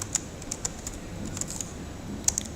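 Fast, uneven typing on a computer keyboard, with sharp little clicks scattered across the clip and a few louder key strikes standing out. It is fairly quiet and close, with no talking.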